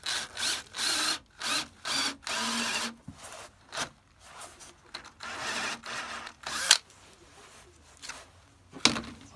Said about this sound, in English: Drill a hole in here.